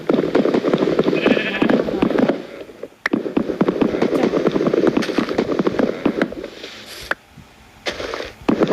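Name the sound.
sheep bleating in Minecraft video game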